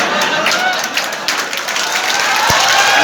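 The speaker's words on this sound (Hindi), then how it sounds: "पीछे से तालियां ज्यादा बज रही हैं और मुझे देख के जो है आगे से तालियां ज्यादा बज रही हैं" Audience at a poetry conference at Roorkee College of Engineering applauds steadily and fairly loudly, a dense wash of clapping with a faint murmur of voices underneath.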